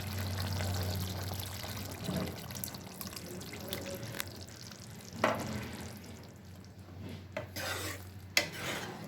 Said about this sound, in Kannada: ಈಗ ಇದಕ್ಕೆ ಹುಣಸೆಹಣ್ಣು ಜ್ಯೂಸ್ ಹಾಕೋಣ.